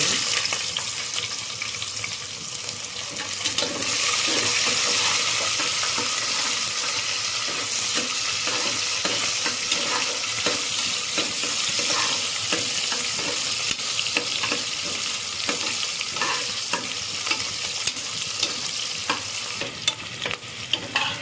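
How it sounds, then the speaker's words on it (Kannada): Onions sizzle and fry in a pan during the making of a vegetable pulao, with steady hissing and frequent stirring scrapes. The sound is close and continuous, and no one speaks. "ಈರುಳ್ಳಿ ಫ್ರೈ ಆಗಿದೆ ನೋಡಿ, ಈರುಳ್ಳಿ ಫ್ರೈ ಆಗಿದೆ."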